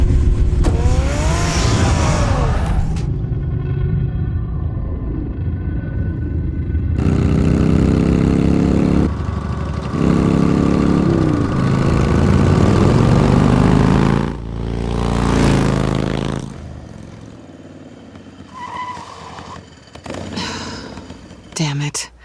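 A car engine runs under a dramatic scene, its low rumble steady beneath music and stretches of talk, with a revving surge around the middle before fading under voices.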